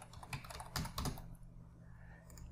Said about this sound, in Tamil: இப்போ பொண்ணோட நேம் வந்து டைப் பண்ணணும்.